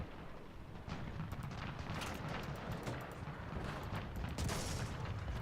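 Tank cannon fire and explosions rumble through a War Thunder ground forces battle, with dense booming blasts and crackling impacts continuing throughout at moderate level.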